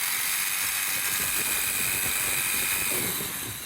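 A power jigsaw saws steadily through material during a roof fan installation, a continuous close, loud buzzing whine with a gritty cutting texture that fades slightly at the end.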